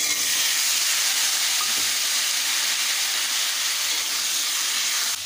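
Cut ash gourd frying with tempering spices in a pan produces a strong, steady close sizzle and hiss that holds throughout with faint stirring underneath.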